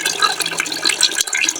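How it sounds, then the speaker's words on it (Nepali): Water gushing from a container once its lid is opened, a brief close splashing burst of liquid that dips briefly and resumes. "यो पानी आउन थाल्छ जब खोलेपछि"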